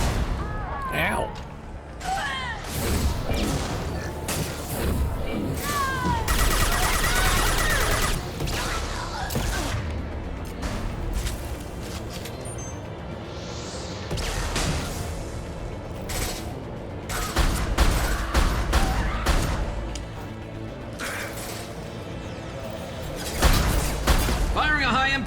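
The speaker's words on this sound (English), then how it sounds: "Firing a high-impact shot." Bursts of gunfire and mechanical weapon clatter from the video game Mass Effect 2, sharp repeated shots and creaking mechanisms layered over game effects and voices throughout.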